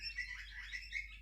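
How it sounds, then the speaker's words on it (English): Small birds chirp and tweet outdoors near a fence while feeding their young, a steady scatter of faint, high calls repeating throughout. "I don't know if you can hear the birds outside"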